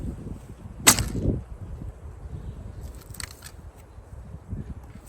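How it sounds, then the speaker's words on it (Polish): A single sharp shot from a WhiteFeather Lapwing bow: a snapping release with a brief twang, followed by quiet outdoor background with a few faint ticks. "Nagram parę strzał dla Puinga"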